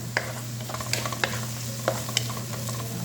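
Garlic added to onions in a pan sizzles softly and steadily up close over a low steady hum, broken by sharp metallic scrapes and taps from stirring.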